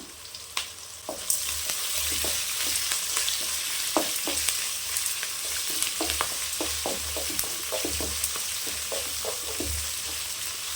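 Onions, ginger-garlic and fennel sautéing in a pan for semiya kichadi, a continuous close sizzle broken by repeated knocks and scrapes of a spoon stirring.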